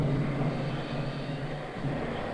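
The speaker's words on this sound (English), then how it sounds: "the last planes are taking off, trying to beat the storm." Airplanes taking off along the East Coast ahead of a 1979 winter storm give a steady, continuous engine drone that fills the whole stretch at an even level, with no talking.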